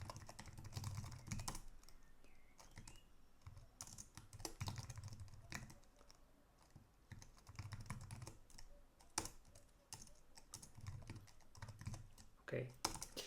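Program parameters typed on a computer keyboard while coding in RPG on an IBM i system, heard as quiet, close bursts of key clicks in an uneven rhythm with brief pauses and soft low thumps, without talk.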